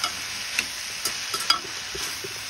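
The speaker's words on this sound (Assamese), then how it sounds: "এইখিনি অকণমান ভাজি লৈছোঁ" Chopped tomato frying in a pan for an Assamese fish dish, a steady soft sizzle broken by several sharp scrapes and taps of a spatula stirring, close and alone with no voices.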